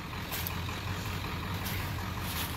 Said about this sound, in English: y'all hear that? The beautiful sounds of my truck running.